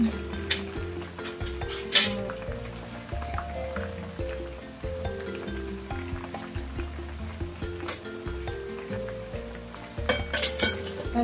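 Buffalo-style chicken wings crackle and sizzle in hot oil while a utensil clinks and scrapes against the pan, with a steady frying hiss throughout.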